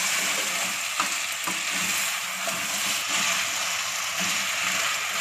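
Potatoes roast with spices in a pan for jeera aloo, giving a steady close sizzle throughout with soft scraping stir strokes scattered across it.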